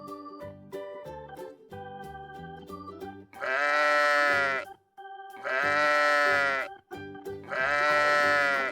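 Toy sheep from a farm animal toy collection bleats three times in long, bright, wavering electronic bleats, each set after a short musical jingle, loud and close with no talk.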